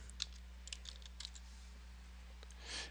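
Light typing on a computer keyboard, a handful of soft, quick key clicks in short clusters over a low steady hum, fairly faint and close.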